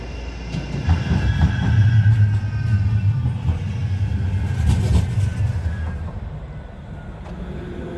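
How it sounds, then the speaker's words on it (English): An Eccles tram pulls into a tram stop, a loud rolling rumble with rail squeal and a clatter of wheels that swells and then settles. "I almost guarantee you the Eccles tram is going to get here first"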